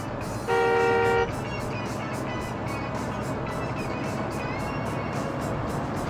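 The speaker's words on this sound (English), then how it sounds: "You guys can honk all you want." A single loud, steady car horn blares briefly in a busy Yakuza 5 street, followed by a fainter second honk amid continuous traffic and crowd ambience.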